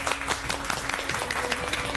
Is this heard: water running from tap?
no